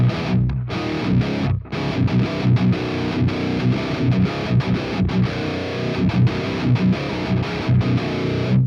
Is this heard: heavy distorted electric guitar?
yes